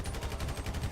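Full-auto gunfire from a weapon in the GTA V LSPDFR police mod, a dense, continuous rattle of close shots lasting about a second.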